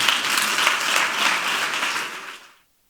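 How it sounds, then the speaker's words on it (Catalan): An audience at a Barcelona tourism conference applauds Anna Sánchez, head of the Diputació de Barcelona's tourism marketing office, with steady dense clapping that fades out near the end. "Un aplaudiment per ella, sisplau"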